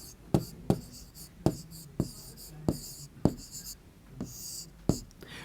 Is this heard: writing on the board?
yes